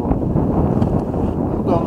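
Wind gusts across a frozen pond during ice fishing in sub-zero cold, a loud continuous rumble buffeting the microphone for a couple of seconds.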